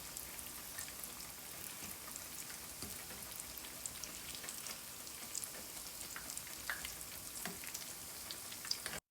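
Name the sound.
chicken nuggets frying in oil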